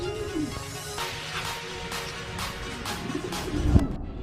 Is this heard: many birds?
yes